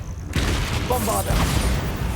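Bombarda blasting spell from Harry Potter going off, a sudden loud booming explosion after a brief quiet start, followed by crackling, rumbling debris noise that fades unevenly.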